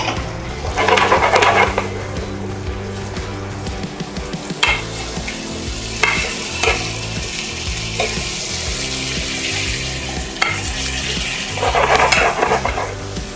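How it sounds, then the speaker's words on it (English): Three tablespoons of butter sizzle and fry steadily in a hot pan, a loud continuous crackle broken by a few stirring scrapes and utensil clinks, with no talking. "I'm gonna get my butter in there. I want the butter to brown."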